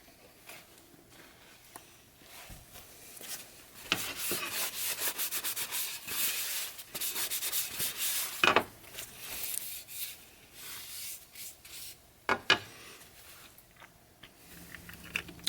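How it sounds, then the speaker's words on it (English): Cloth rubbing boiled linseed oil onto a wooden boot jack, a soft, irregular scrubbing and wiping texture, close and fairly quiet, with brief sharper scuffs and knocks between strokes and no talking. "For the application of boiled linseed oil, I'm going to apply a liberal coat to the boot jack."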